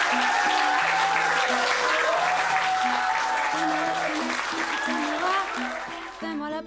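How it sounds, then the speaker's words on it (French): An audience applauds young theatre actors with sustained, dense clapping that stays loud throughout and begins to thin near the end, while a pitched tone and some voices sound faintly underneath. "Je vous invite donc à leur offrir un applaudissement chaleureux en témoignage de notre reconnaissance."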